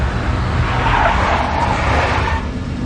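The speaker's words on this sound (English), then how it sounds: "A big black Mercedes." A big black Mercedes skids with a broad, loud tire squeal and engine roar in the Max Payne Mobile video game, a continuous close smear of sound lasting a few seconds.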